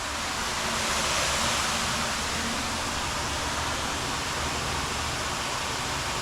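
A waterfall pours into a 25,000-gallon fish tank holding koi and mahseer, a loud, even, unbroken rush of falling water.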